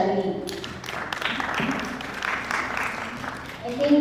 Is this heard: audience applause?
yes